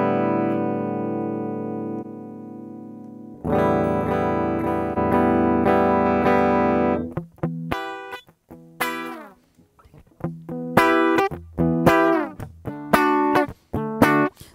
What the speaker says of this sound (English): This compressor is really, really good.